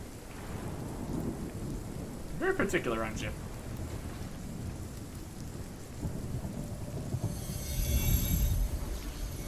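Thunderstorm in the video game RuneScape: Dragonwilds, with steady rain hiss and rolling rumbles of thunder swelling louder toward the end, while someone speaks briefly over the storm.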